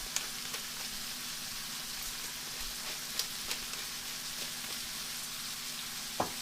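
Red lentil pasta sauce simmers and sizzles quietly in a pan, with a few sharp spoon clicks and scrapes against the pan as it is stirred.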